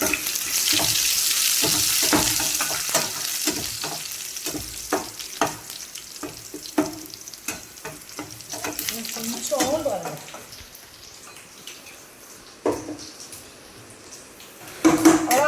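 Curry leaves crackle in hot oil during tempering for a dried-fish kuzhambu, a loud steady sizzle with dense popping that thins out toward the end, with a brief voice near the close.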